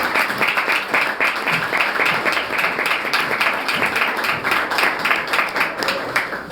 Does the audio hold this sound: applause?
yes